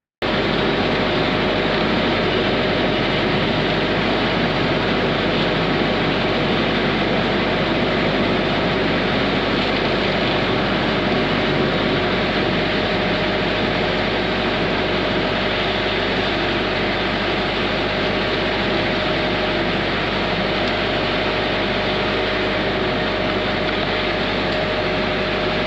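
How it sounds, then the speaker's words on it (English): A drain jetter machine clearing a scaled urinal pipe in an office and warehouse building, giving a loud, constant engine-and-water roar that holds steady with no talk over it. "The jetter is clearly clearing something out of the pipe"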